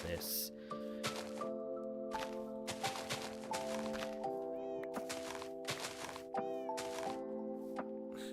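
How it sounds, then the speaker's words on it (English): Cats meow repeatedly in a farming video game while a player building up their base talks over them, the mews scattered across the stretch amid tonal in-game music. "Just hearing cats in the background, just like real life."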